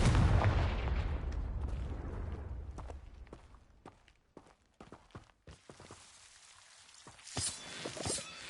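A Confringo blasting spell in Hogwarts Legacy goes off as a loud burst of explosion that decays into scattered sharp cracks and debris clatter, then quieter rustling and a few late thuds.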